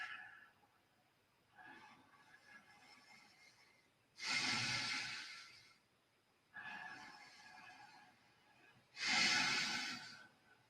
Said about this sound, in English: 5 breaths.